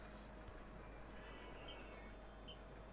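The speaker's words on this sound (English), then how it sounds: "that's my little bird peeping. He likes to make pee-pee sounds. Not pee-pee sounds, like just squeaky sounds." A small pet bird gives a few faint, brief squeaky peeps, about two or three spaced high chirps, over a quiet indoor background hum.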